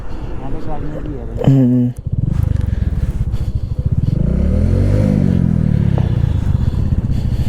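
A motorcycle arrives and is parked at Gurudwara Shri Pathar Sahib during a slow ride toward Kargil. Its engine rumbles and briefly revs close by, then a clatter follows while someone talks over the running engine.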